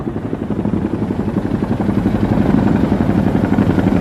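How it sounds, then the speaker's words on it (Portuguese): A rescue helicopter flies near snowy Mount Rainier after a blizzard, its rotor producing a loud, steady low thumping drone that continues throughout with no voices. "Sem a nevasca, um helicóptero agora podia levá-los para a segurança."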